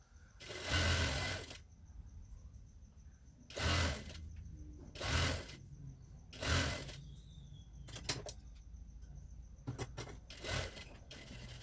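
Sewing machine stitching elastic onto the waistband of ladies' pants, several short mechanical whirring runs of one to two seconds separated by quiet pauses, close and moderately loud, with no talking.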